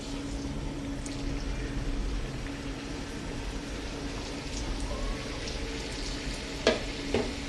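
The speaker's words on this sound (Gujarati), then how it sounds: "સ્પ્રિંગ રોલ તળવા ટાણે તેલ વધારે ગરમ કરવાનું." Spring rolls fry in very hot oil in a home kitchen, giving a steady, close crackling sizzle throughout with a couple of sharper pops near the end and no talking.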